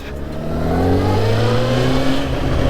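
A sport motorcycle engine accelerates hard close by, with its rising whine climbing steadily in pitch as the revs build. The sound is loud and continuous, with no voices over it.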